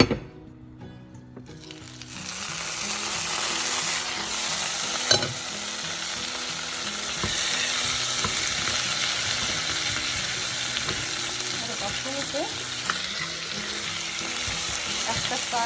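Pieces of lamb fry in hot oil in a pan, giving a continuous dense sizzle with occasional pops and scraping clinks, steady and close.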